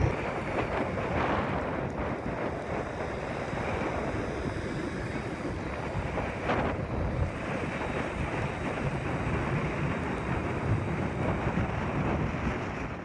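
Strong, steady wind roars and buffets the microphone, a continuous loud rushing with gusty swells and no voices.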